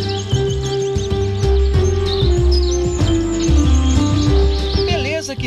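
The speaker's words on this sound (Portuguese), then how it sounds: "E aí estão eles, pássaros de várias espécies" Many birds of various species chirp and tweet together in a dense, lively chorus at an ecological park, with varied calls overlapping over a low background hum.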